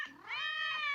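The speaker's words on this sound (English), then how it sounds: "What are those cats doing behind you?" Cartoon cats in an animated comedy give a rising, drawn-out meow that swells and holds steady, clear and close with no talk over it.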